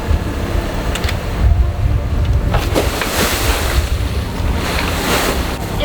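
Large ocean waves surge and crash around a small sailboat at sea, with heavy wind buffeting the microphone and a continuous rushing, sloshing roar throughout.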